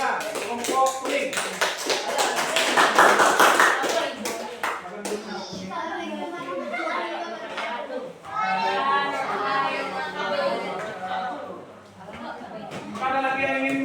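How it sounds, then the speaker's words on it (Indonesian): Classroom applause for a student group, quick overlapping hand claps from many students that swell to a loud peak and fade, with children chattering and a teacher speaking in between. "Berikan tepuk tangan kepada kelompoknya, kelompok kuning."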